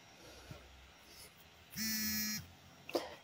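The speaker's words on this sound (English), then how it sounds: "my phone keeps buzzing and I don't know why" A mobile phone buzzes in a quiet room, a single droning vibration lasting under a second between faint handling noises and soft thumps.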